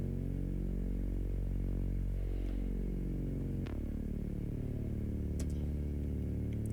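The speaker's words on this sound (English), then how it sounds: "The synth bass sounds like this." Saturated synth bass line, EQ-cleaned and levelled, playing sustained low notes with sliding pitch movement and a mid-clip note change, steady and fairly quiet, with no voices.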